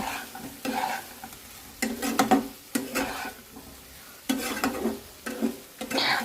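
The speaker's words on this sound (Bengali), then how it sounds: "ভেজে রাখা চিংড়ি মাছগুলো দিয়ে মশলার সাথে ফ্রাই করবো" Fried prawns stirred into a reduced spice paste in a pan, with bursts of scraping and stirring over a soft sizzle, some light clinks of utensils against the pot, no talk.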